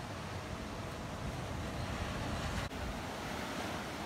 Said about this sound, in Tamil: அப்படியே பார்த்தீங்கன்னா அங்கே இருக்குது நம்ம கடல்.